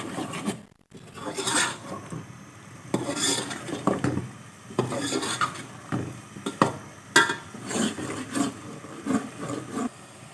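Spoon scraping and stirring crushed and ground red chilli in a pan while roasting them for a dhaba-style white chickpea curry, a steady rasping scrape with repeated clinks of utensil on metal, close and loud, no talk.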